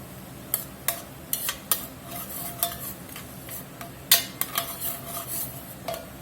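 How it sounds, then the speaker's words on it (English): Minced garlic going into a pot of bacon collard greens, with a utensil scraping and clinking against the metal in a run of sharp, uneven taps over a soft, steady sizzle. "right now we're going to get some minced garlic in here"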